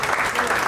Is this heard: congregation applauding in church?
yes